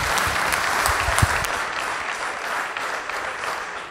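A church congregation breaks into a round of applause for a preacher, sustained crowded clapping that holds steady for several seconds, slightly stronger early on before easing.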